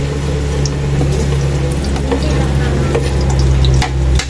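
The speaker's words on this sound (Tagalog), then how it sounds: "Nilagay ko na yung bawang, sibuyas." Garlic and onion sautéing in a pan give a close, steady sizzle with crackles and pops, while a low hum runs underneath and brief stirring clatters appear near the end.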